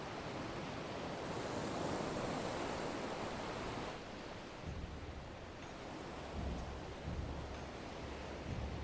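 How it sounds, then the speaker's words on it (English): Sea waves crash and surge near the port of Kugane in Final Fantasy XIV Stormblood, a steady broad roar of surf with wind that swells and recedes throughout, with no voices. "the crash of the waves as we drew closer to Kugane"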